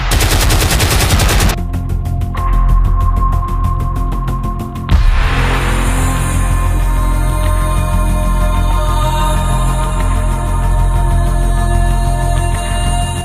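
Rapid bursts of gunfire crackle loudly, then a heavy blast booms, followed by continued rattling shots over a dense, roaring battle din, as aircraft bomb and machine-gun the city of Malang.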